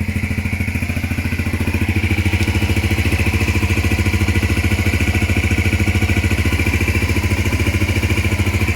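A Honda Varadero XL 125 motorcycle engine runs steadily at idle, a loud, close, even mid-pitched throb with a slight rise in level early on, alone without talk.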